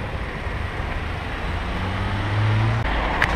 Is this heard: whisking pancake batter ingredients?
no